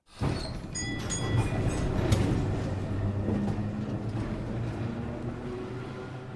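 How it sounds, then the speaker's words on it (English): A tram ride heard from inside: a steady rumbling, rattling rail-vehicle drone with faint squeals near the start, continuous and fairly close throughout, with no voices. "Then he left the office and took a tram to Broadway."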